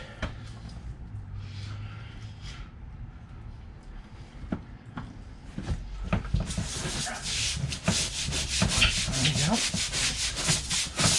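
Finish being rubbed by hand into the wooden grain aboard a Sealine S28 boat, a soft steady scrubbing that grows louder and busier in the second half, with a few knocks and faint dog whimpers in the background.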